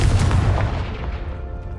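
A loud, deep explosive boom from the Confringo fire spell in the Hogwarts Legacy game, erupting at once and then rumbling away over almost two seconds with no speech.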